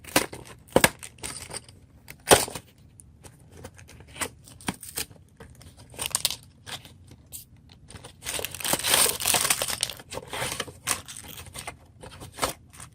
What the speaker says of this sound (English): Let's go ahead and open these up, starting with Pepper